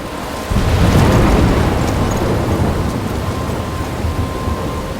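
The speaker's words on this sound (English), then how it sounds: "I'm trapped in a storm." A thunderstorm in the video game Life is Strange: a heavy, continuous rumbling roar with a rain-like wash. It swells loudly after a quieter opening and holds steady to the end, with no voices.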